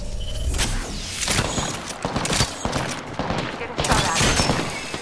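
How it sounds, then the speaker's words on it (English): Gunfire in a video game, a dense, continuous barrage of overlapping shots with booming impacts, loud and sustained throughout. "Getting shot at."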